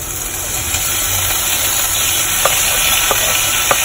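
Onion, beans, carrot and potato sauté in a pan with a steady, close sizzling hiss, broken near the end by a few soft scraping stirs.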